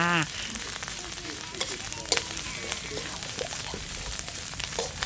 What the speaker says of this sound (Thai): นี่กระทะร้อนพริกแกง ใส่ลงไปนะคะ